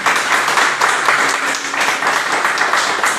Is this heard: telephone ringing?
no